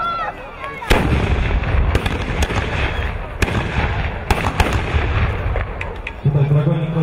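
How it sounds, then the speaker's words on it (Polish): Dragoons fire a musket volley at a reenactment of seventeenth-century battles between mercenaries and Sarmatians. Several loud, sharp black-powder reports crack out a second or so apart over continuous outdoor noise, with some talking in the background. "Tutaj dragoni kolejną rundę strzał przeprowadzają."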